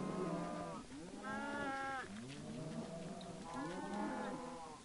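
Cattle mooing in the video game Minecraft, several drawn-out lowing calls one after another, loud and close, with no talk over them.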